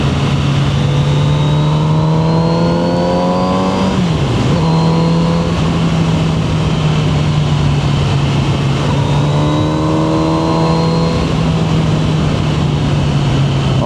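A Kawasaki Z900RS motorcycle engine drones steadily while riding, a loud sustained hum with a brief dip in pitch around a gear change midway, then holding on under constant wind rush.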